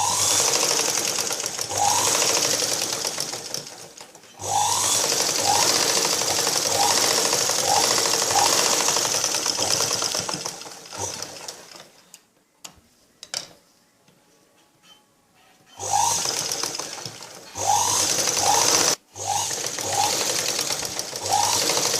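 A sewing machine stitches lines on a blouse in long fast rattling runs, stopping for a few seconds midway and then resuming with shorter bursts, loud and close.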